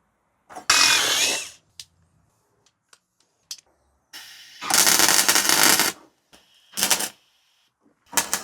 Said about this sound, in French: Donc, ce qu'on va faire, on va déjà forer.